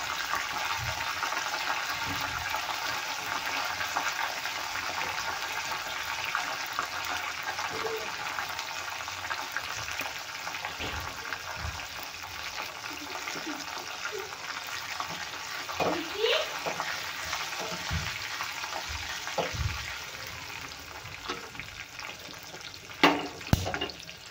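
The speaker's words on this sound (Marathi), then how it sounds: "आता घालूया आपण कढीपत्ता आणि लाल मिरच्या" Curry leaves and red chillies sizzle in hot tempering oil for Andhra-style tomato dal, making a continuous hissing crackle with occasional stirring knocks, close and steady, rising briefly near the end.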